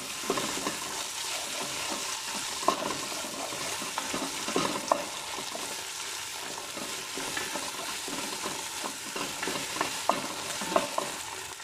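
Garlic and tomato paste sizzle and fry in a pan while being stirred with a spoon, with steady frying crackle and occasional louder scrapes and clinks throughout, no talking.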